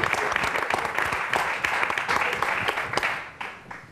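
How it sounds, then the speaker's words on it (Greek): Studio audience applause on a Greek television tribute show honouring a singer: steady, dense clapping with sharp individual claps standing out, tapering slightly at the end. "Ένα χειροκρότημα, εγώ σας παρακαλώ."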